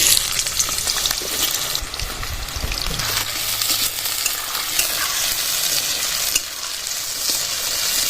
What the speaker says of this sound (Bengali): আমি সর্ষে তেল দিয়ে দিলাম আলুগুলো দিয়ে দিচ্ছি